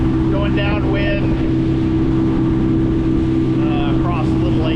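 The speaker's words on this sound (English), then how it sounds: "just to rev the engine up a little bit more than normal" An outboard engine on a wooden DIY skiff revs loud and constant while heading downwind, a steady droning hum with wind rushing over the microphone and brief voices over it.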